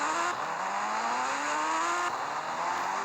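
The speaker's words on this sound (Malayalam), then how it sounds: "എൻ്റെ സ്കൂട്ടി നല്ല സൗണ്ട് കേട്ടോ" A scooter engine in an Indian bike video game revs and climbs in pitch, whining upward twice in rising sweeps over a steady motor drone, loud and close with no talk.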